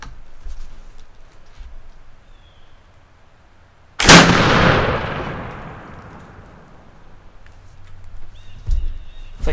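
A single loud musket shot fires at 4 seconds, using a longer barrel loaded with 120 grains of powder aimed at medieval plate armor, its sharp blast decaying over several seconds against quiet outdoor background.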